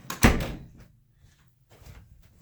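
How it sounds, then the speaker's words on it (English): A door swung shut indoors with one sharp close thud, followed by quiet faint rattling and shuffling. "let me close this door"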